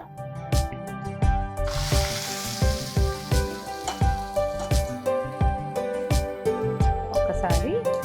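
Cashews and curry leaves sizzle steadily in hot oil for tempering, broken by regular sharp clinks and scrapes of a utensil against the pan.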